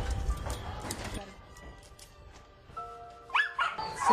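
A scared, dehydrated dog with severe mange, rescued from a hoarding situation in Hawaii, whimpers and yips in soft bursts, with a person speaking gently nearby and a couple of higher cries near the end.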